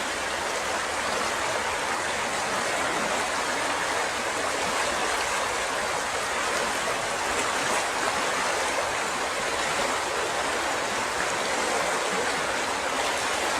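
A stream runs through night-time woods on a ridge, its water flowing in a loud, constant rushing hiss throughout, close by and without any speech.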